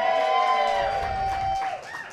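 An audience at a live storytelling show cheers and whoops for a couple of seconds. The crowd noise is moderate and fairly distant, with a few raised voices standing out over the mass of cheering.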